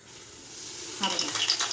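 Semolina (rava) tipped into very hot ghee for Satyanarayan puja prasad sheera, with a soft steady sizzle that jumps louder at the drop and crackles on close by, a little stirring clatter and no talk.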